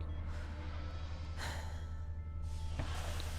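A person in The Turing Test breathes heavily, with a few slow, audible sighing exhalations rising over a constant low hum, close and fairly quiet.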